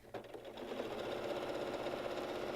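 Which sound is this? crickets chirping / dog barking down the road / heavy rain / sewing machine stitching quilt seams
sewing machine stitching quilt seams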